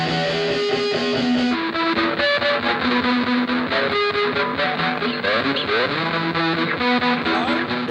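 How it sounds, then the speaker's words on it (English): Electric guitar through a Hotcake overdrive pedal plays a gritty, broken-up sequence of chords and held notes, loud and dense, with the guitar's tone still audible under the distortion. "you can hear the sort of breakup of the guitar, but you still hear the guitar sound behind there"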